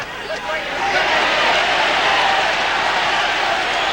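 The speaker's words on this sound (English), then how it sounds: "Crowd excited by a little bit of Harding work" Crowd roar at a 1990 boxing rematch between Dennis Andries and Jeff Harding, a broad, steady wash of cheering and hubbub that swells after the first second and holds loud and even throughout.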